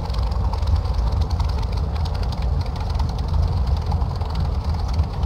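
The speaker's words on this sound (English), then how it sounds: "Come all the way back to idle on the throttle." A P-40F Warhawk's piston engine idling at low RPM in a flight simulator, a steady deep rumbling drone with a rough low throb, continuous and even throughout, no talking.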